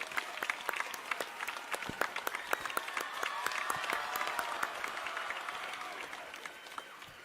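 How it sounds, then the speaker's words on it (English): Parishioners and guests at St. Joseph's Matriculation Higher Secondary School give Rahul Gandhi a big welcoming round of applause, a dense, sustained clatter of many hands that carries on for several seconds. "let's all give him a big applause and welcome"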